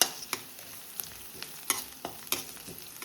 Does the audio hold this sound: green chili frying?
yes